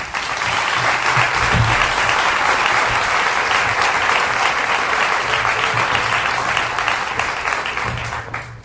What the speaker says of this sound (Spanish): Un gran aplauso para Sol.